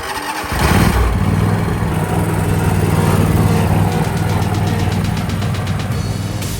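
A zero-turn lawn mower engine runs steadily and loudly at close range with a constant low drone, its pitch not rising and no voices over it.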